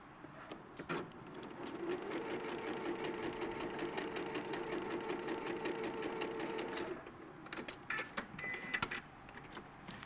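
A sewing machine stitches fabric in a steady, even mechanical whir lasting about five seconds, fairly faint, with scattered clicks and handling noises before and after.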